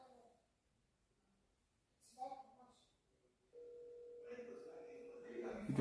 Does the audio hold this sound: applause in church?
no